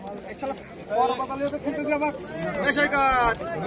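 Pigeons at a busy Beldanga pigeon market in Murshidabad, their low coos and bird calls rising over crowd babble and nearby voices.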